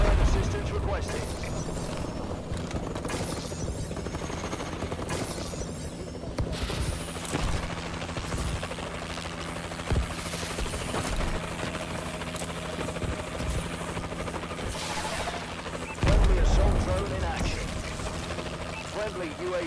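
A Warbird aircraft drones overhead in a video game, a continuous rotor-like rumble with scattered gunfire bursts and game voice announcements over it.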